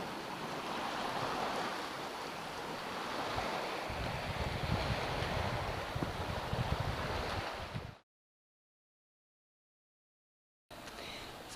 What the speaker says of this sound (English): It's nice to hear the water and just kind of relax and enjoy nature